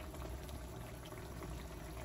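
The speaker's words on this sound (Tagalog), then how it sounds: "kasi kumukulo na siya" Soup with a sour broth bubbling in a pot, a soft, steady simmering hiss that is close and quiet, with no voices over it.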